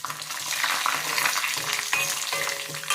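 Oil with fresh henna leaves simmering and frying in a pan, a steady close crackling sizzle with small bursts and pops throughout, no voices.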